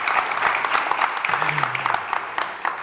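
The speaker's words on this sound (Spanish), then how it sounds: "lo primero que pido es un aplauso para él" A live music-industry event audience applauds a guest with full, continuous clapping. A low voice murmurs briefly beneath the steady applause.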